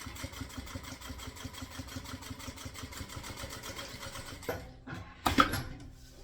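Stitching a straight line along bag fringes, a sewing machine hums with a quick rhythmic needle pulse, fairly quiet and close, ending with a few handling clatters.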